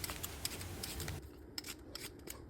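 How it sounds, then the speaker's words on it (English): Sweet potatoes are peeled by hand, giving faint, close scraping strokes in an irregular rhythm at low volume, with no talking. "first we're gonna start off by peeling our sweet potatoes"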